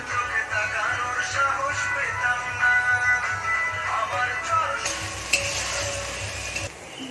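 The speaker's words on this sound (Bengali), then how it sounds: "তো এবার দেওয়া হচ্ছে রসুন" Garlic fries in a hot pan for chicken kosha curry while a spoon stirs and scrapes, a close sizzle under clinking stirring strokes, with some tonal kitchen noise in the background.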